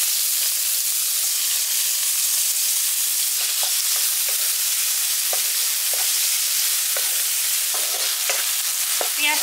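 Chopped onions frying in hot oil with whole garam masala in a pan, a steady bright sizzle with intermittent stirring scrapes and clicks, close and continuous with no voices.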